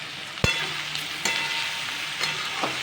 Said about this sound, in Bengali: এখন এটিকে আমি ভালোভাবে হাই ফ্লেমে নাড়াচাড়া করে নিলাম